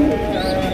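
Several pigeons coo together at Nur Alam Babu's pigeon farm, a low, steady rolling murmur close by with no break across the short stretch.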